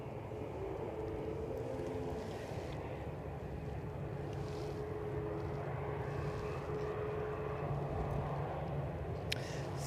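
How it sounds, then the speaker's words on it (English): A Jet2 Boeing 737-800 airliner recently landed at Edinburgh airport from Palma de Mallorca, its engines producing a steady, distant low rumble and whine heard outdoors with no talk. "Jet2.com liveried 737-800, recently landed from Palma de Mallorca."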